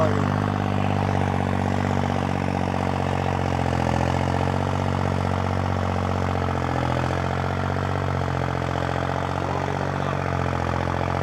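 A modified tractor engine works through soil at a steady loud drone with a throbbing low rumble, unbroken for the whole stretch with no voices.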